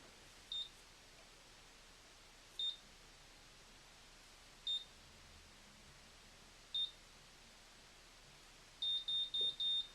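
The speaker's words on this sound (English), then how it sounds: "Wait for the beeps." A Conair Infiniti Pro curling iron gives four short, evenly spaced high-pitched beeps over faint background hiss, then a quick burst of four beeps in a row near the end.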